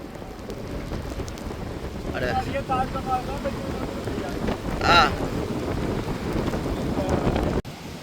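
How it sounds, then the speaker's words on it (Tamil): Stormy wind and heavy rain lash a coastline in a steady, loud roar with gusty swells, while voices talk faintly underneath. "மழையும் காத்துமா இருக்கு"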